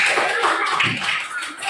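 Applause from an audience welcoming the second group forward at a teachers' coaching session for academic supervision: a steady, dense patter of many hands clapping throughout, with voices mixed in.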